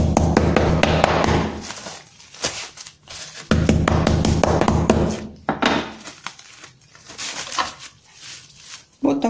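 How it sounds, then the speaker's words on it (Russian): Turkey breast is pounded flat under plastic film on a board, with bursts of repeated close thuds and taps separated by short pauses while someone talks. "И отбиваем. Отбиваем очень хорошо,"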